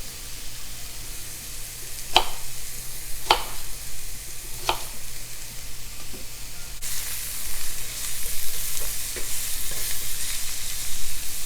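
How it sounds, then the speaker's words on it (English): Onion sautés in a pan for a Brussels sprouts and bacon side dish, giving a continuous close sizzle broken by a few sharp stirring clicks, with the frying growing louder toward the end. "that onion is sauteing really quick"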